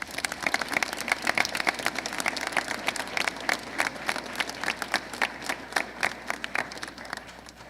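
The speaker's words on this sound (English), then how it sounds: "Please give our student body officers a round of applause." A crowd applauds student body officers at a high school Veterans Day assembly, steady dense clapping that holds for several seconds with sharp individual claps standing out, no talking.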